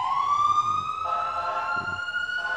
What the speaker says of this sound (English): I'll give the ambulance a second.